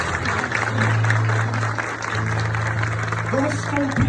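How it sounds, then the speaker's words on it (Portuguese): A church congregation at a novena for the Festa do Divino claps steadily after the Gospel reading, a continuous wash of applause lasting several seconds over a low steady hum. "aplaudir com força a palavra da salvação."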